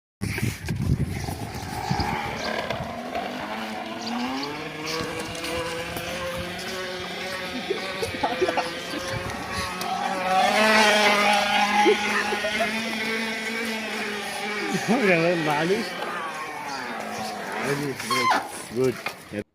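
A geared bicycle being ridden gives off a continuous motorbike-like engine drone with shifting pitch for the whole stretch, moderately loud and close, swelling midway, while a voice talks over it.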